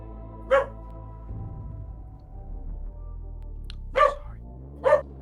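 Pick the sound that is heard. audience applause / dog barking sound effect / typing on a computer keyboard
dog barking sound effect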